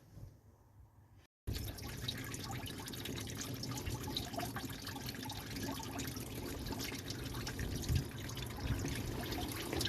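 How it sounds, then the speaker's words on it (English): Coolant draining from a Mercedes Sprinter van's opened tap into a bucket: after a brief quiet start, a continuous close splashing, trickling pour runs steadily to the end. "And get the coolant out. Drop it into the bucket"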